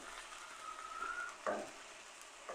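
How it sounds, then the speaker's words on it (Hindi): Chicken sautéing in garlic ginger paste in a pan, a quiet steady sizzle with a couple of brief stirring scrapes, close and faint, with no talking. "इस चिकन को लहसुन अदरक के पेस्ट में इसको ज़रा सा लाल कर लूँगी"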